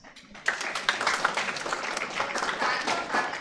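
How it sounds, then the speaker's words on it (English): Audience at a university workshop on the Indian Constitution breaks into applause, a sudden onset swelling into dense, sustained clapping from a sizeable crowd, close and lively, with no speech over it. "Kindly give him a warm round of applause."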